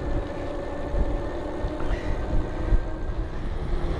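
Hub motor of a Geleisen TTS1 budget ebike pulling under throttle, a steady low whine and hum with road rumble and frame vibration, close and moderately loud, no talking.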